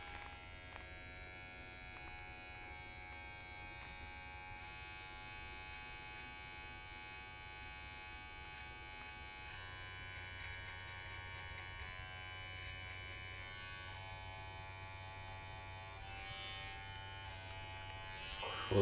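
Hair clippers buzzing steadily and close with no guard and the lever open, cutting hair during a self-administered buzz cut taper fade, a continuous hum with slight shifts in tone and no talk.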